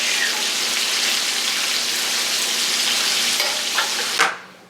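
Branzino fish frying in a pan of hot oil, a steady loud crackling sizzle throughout that ends with a brief clatter.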